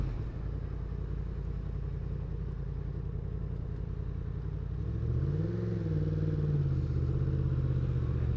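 Engine of a 2024 Yamaha MT-10 motorcycle drones steadily and close, then swells in a single rising and falling rev near the middle before settling back to idle.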